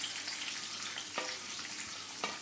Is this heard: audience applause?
no